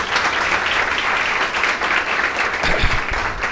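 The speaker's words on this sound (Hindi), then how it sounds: "एक बार फिर उनके लिए तालियां बजाएं।" Audience applause at a book release ceremony, a dense steady wash of many hands clapping at close range that carries on without a break.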